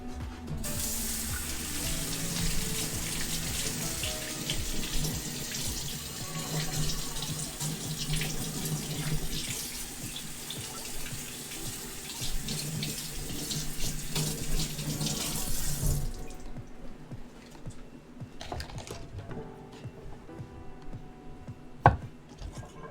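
Water runs steadily from a kitchen tap for about sixteen seconds as vegetables are rinsed beneath it, close and even, then the flow stops, leaving faint handling clatter.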